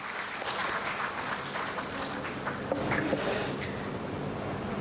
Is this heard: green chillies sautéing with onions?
no